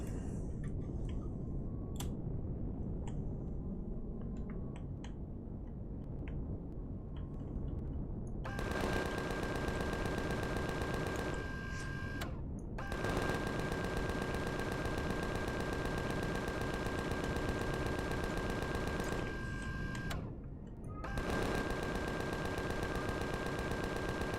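Rapid automatic gunfire from the sci-fi survival game Empyrion, sustained bursts with short pauses between them, loud and continuous with a steady tonal hum underneath.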